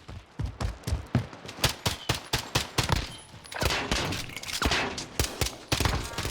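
Rapid gunfire in Call of Duty Modern Warfare, a fast rhythmic string of sharp, loud shots that runs across the whole stretch, briefly smearing into a heavier burst midway, with no speech over it.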